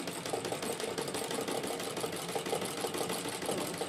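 A 60-year-old home sewing machine stitching steadily, its rapid needle clatter and motor whir running continuously and close throughout with no talking.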